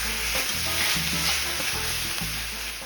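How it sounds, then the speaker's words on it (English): Diced onion and cubes of boneless pork loin sautéing in olive oil for Puerto Rican pasteles, a close steady sizzle with a background hum, no talking. "saute that for about 5 minutes before adding cubes of boneless pork"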